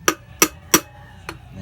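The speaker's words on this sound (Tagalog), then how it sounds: "So pupukpukuin lang natin siya ng dahan-dahan." Gentle hammer taps on a Honda Wave 125i motorcycle wheel bearing: three evenly spaced sharp metallic knocks close by, then a softer fourth tap after a short pause.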